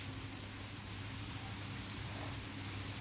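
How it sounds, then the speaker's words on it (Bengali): Steady rain falling outdoors during a sudden shower, a faint, even hiss with no break and no voices. "হঠাৎ করে এই সময় শুরু হয়ে গেল বৃষ্টি।"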